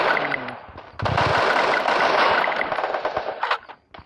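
Sustained rapid assault rifle fire in a first-person shooter game, a dense loud burst running about two and a half seconds after a short lead-in, then tailing off with a few scattered shots.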